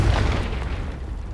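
A Confringo fire spell blasts off in Hogwarts Legacy, one loud booming explosion that hits hard at the start and then rumbles away over about a second.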